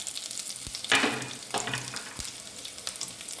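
Raisins frying in cow ghee in a pan, a soft crackling sizzle with a few stirring scrapes and light clatters, close and fairly quiet, no talk.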